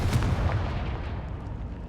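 A Confringo fire-blast spell in Hogwarts Legacy detonates with a dense, booming explosion, a heavy low rumble with a sharp crack near the start that holds loudly and evenly for about two seconds.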